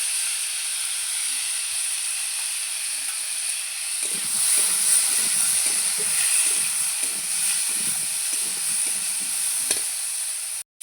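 Vegetables for a radish and rohu fish curry fry in a pan with green chillies, turmeric and salt, giving a steady close hiss and sizzle, with soft stirring scrapes joining partway through.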